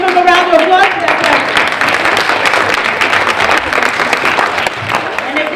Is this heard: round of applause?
yes